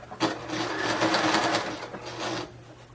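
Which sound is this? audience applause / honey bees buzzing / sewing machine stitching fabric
sewing machine stitching fabric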